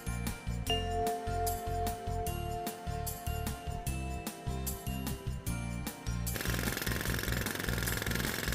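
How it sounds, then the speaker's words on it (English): A jackhammer pounds at a construction site in rapid, loud repeated bursts with short gaps, then shifts into a continuous, harsh rattling roar toward the end. "That's a jackhammer."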